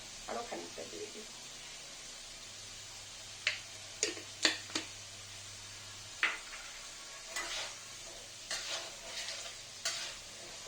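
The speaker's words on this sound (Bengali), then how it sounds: "এখানে আমি ফোড়ন হিসাবে 5 ফোড়ন নিই, 5 ফোড়ন দিয়ে দিলাম" Panch phoron spices crackle and fry in hot oil while a utensil scrapes and stirs the pan, with intermittent taps and clicks over a faint low hum, in a village-style fish recipe.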